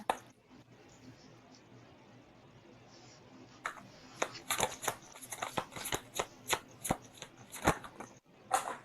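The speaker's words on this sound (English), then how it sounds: "let's pull a couple cards for the collective" Tarot cards shuffled and pulled from a deck, a run of quick dry riffling slaps and flicks that grow busier and louder toward the end, close by with no talk.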